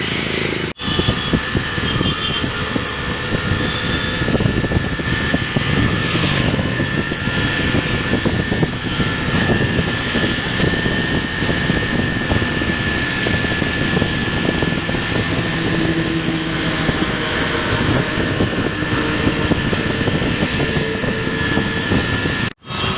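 Motorbike riding along Atal Path road toward Marine Drive in Patna, with a steady, loud engine drone and heavy wind rush filling the whole stretch, no talk.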